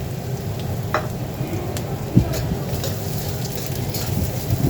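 Garlic, onion and ginger sautéing in a pan for clam tinola, a low steady sizzle with occasional light taps of a utensil, moderately close, no talk.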